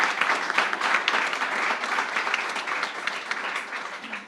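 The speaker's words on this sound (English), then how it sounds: "Give her a round of applause." Dense, sustained applause from an audience at a company's annual general meeting, a steady wash of many hands clapping at even volume throughout with no break.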